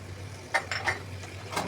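Meat frying in oil while being stirred in a pan, with a few short scraping and clattering stirs over a steady low hum, no voices.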